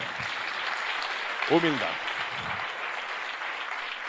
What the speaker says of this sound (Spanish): Dele un aplauso a Jesús, por favor.